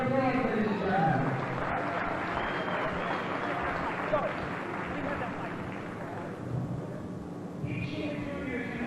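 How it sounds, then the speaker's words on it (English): Audience applause at a 1995 Sanshou and kung fu demonstration event in New York City, a steady wash of clapping from a crowd that continues throughout, mixed with voices and crowd noise. "Round of applause, ladies and gentlemen."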